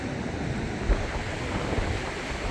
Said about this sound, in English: there's quite a bit of an onshore wind, probably around 50 odd k's an hour